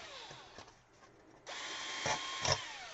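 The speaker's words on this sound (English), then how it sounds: "I can grab a drill with a 11/64 drill bit." A drill with an 11/64 bit bores shelf peg holes into a shelf side, a short quiet whir that rises into a louder burst of spinning and chewing through wood.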